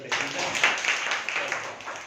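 Children in a classroom clap together for a short burst of steady, scattered applause, close and lively, with some voices mixed in.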